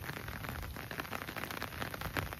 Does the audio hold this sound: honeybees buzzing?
no